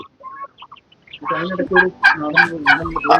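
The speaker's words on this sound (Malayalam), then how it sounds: "ടർക്കി കോഴി എന്ന് പറയും" A turkey gobbles in a run of loud, rapid, warbling calls close by, after a second of faint, scattered bird chirps.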